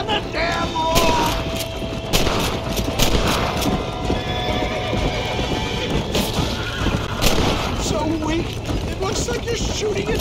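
Gunfire in the video game Red Dead Redemption, scattered shots mixed with horse whinnies and clip-clopping hooves, while characters talk over the commotion.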